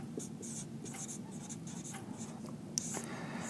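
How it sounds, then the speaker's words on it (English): A pen or marker scratches out an equation by hand in a physics lesson on angular momentum, producing short, faint, irregular strokes close by in a quiet room. "We'll write it like this."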